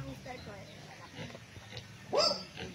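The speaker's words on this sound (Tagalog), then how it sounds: "Ayan, mga native na baboy mga kapraps" Native pigs on a farm oinking, with a few soft grunts and a louder squealing oink near the end, under a voice talking.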